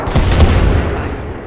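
Frag grenade exploding in Apex Legends: a single loud, heavy boom with a rumbling low tail that fades over about a second, with no talk.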